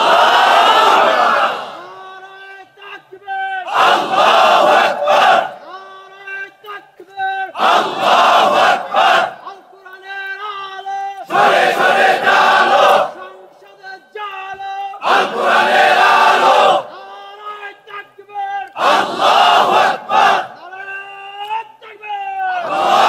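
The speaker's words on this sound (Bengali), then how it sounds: "মিয়া দাও তো তাকবীরের মতো একটা তাকবীর" A large crowd at a religious sermon gathering roars takbir in unison, several loud chanted shouts with short silent pauses between them, a lead voice calling out before each group response.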